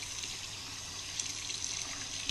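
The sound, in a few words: water filling a basin for rinsing handspun yarn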